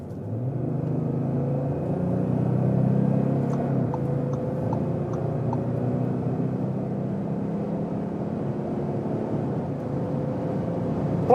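A 3-liter diesel Audi S4 accelerates hard at speed, heard as a steady low engine drone with road and wind rumble, swelling slightly and then holding even with no voices.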